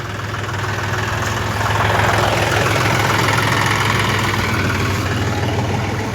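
A farm tractor with a trolley hitched idles close by, its steady loud engine rumble and low knocking vibration continuing unbroken throughout.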